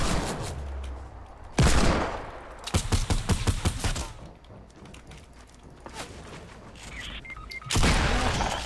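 Gunfire in the video game Fortnite, including sniping: loud blasts and a rapid string of shots, with booming bursts and quieter gaps between, close and harsh.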